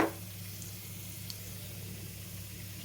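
Urad dal, chana dal, mustard seeds and cumin sizzling in hot oil, a soft, steady, crackling hiss that stays even and faint throughout, heard alone.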